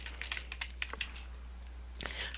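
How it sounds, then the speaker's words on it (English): Computer keyboard typing while entering a chart title in a spreadsheet: a rapid run of close, crisp key clicks, a pause, then a few more keystrokes over a low steady hum. "And I'm actually going to type quarterly"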